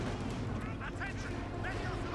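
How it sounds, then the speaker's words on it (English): Battle sounds from the video game Company of Heroes 2, with rapid gunfire and artillery in a 1v1 match, a dense rumbling barrage running under a commentator's speech. "Several shots going off."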